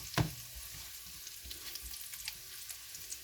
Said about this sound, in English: Just give it a little stir.